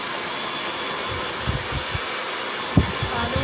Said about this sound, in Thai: แล้วเราจะมาเป่าดูตรงกันนะคะ